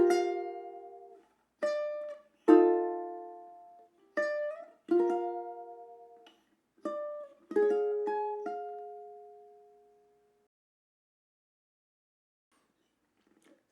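Solo ukulele plays a melody as a slow sequence of plucked notes and chords, each ringing out and decaying, ending on a long sustained note; close and clear, with no voices.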